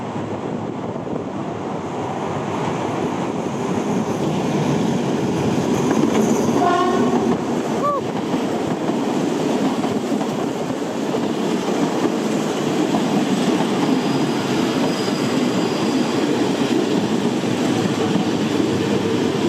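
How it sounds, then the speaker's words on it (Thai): An Alstom 4307 locomotive hauls passenger train 367 from Bangkok to Chachoengsao Junction. Its rumble and wheel clatter stay close and loud, with a brief horn blast in the middle. "ขบวนโดยสารที่ 367 กรุงเทพปลายทาง ชุมทาง ชาเชิงเซา อัลสตอม4307ทำขบวนมา"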